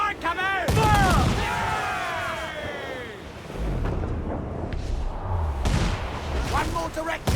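Ship cannons in Assassin's Creed IV: Black Flag boom in heavy volleys with rumbling, crackling blasts and whistling shot, while shouted commands and voices sound over the battle.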